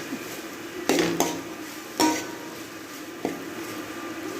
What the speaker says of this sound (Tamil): மல்லி இலை போட்டு லைட்டாக கிண்டினாமட்டு போதும்